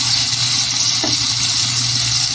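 Food sautéing in a pan, a dense, continuous hiss and sizzle heard close and loud, steady throughout with no talking.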